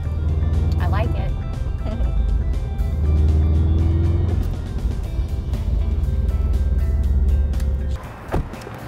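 A 2015 Subaru WRX STI rolls along a road, its steady engine drone and road rumble heard from inside the cabin. Voices talk over it throughout, and there is a brief bump near the end.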